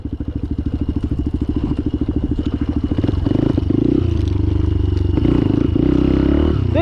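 A Benelli TNT 135 small motorcycle on street tires thumps along off-road at a low, steady engine note, picking up revs partway through with some clatter, close and fairly loud.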